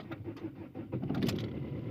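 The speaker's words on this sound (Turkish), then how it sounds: "tekrar çeviriyoruz ve arabamız çalıştı" A car engine cranks and catches as the ignition key is turned, a rough low rumble swelling into a steady running idle, close up with faint mechanical rattles.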